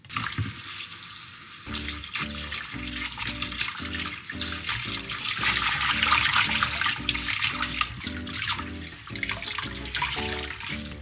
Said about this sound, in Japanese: これからね、シソをきれいに洗っていきます